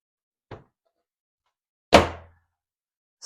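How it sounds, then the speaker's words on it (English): A folding wooden archery bench drops down after its hook-and-eye latches are undone. A light knock comes first, then a louder solid thunk that rings briefly, and a further clunk follows at the end, with no talking. "Undo those, drop down the bench,"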